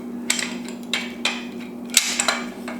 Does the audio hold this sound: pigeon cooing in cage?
no